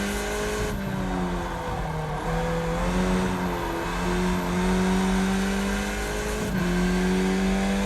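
Skip Barber race car engine in iRacing at Okayama Short, a loud steady droning note rising and falling with revs and gear changes, close and continuous.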